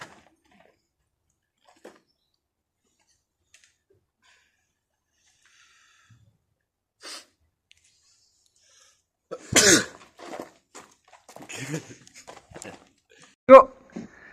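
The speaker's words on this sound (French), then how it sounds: "Je vais éternuer." A single sharp sneeze bursts out close to the mic in an otherwise quiet room, followed by a few soft sniffs and a brief second burst near the end.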